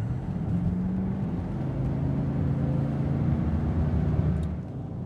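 A 1996 Bentley Continental R pulls hard under acceleration, its engine a steady deep rumble with road noise heard from inside the cabin, fading slightly at the end.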